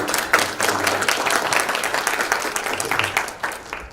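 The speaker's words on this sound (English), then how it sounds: "Let's give them a round of applause" An audience applauds a group of named speakers at a human rights event on Artsakh, steady dense clapping filling the room for about four seconds before tapering off at the end.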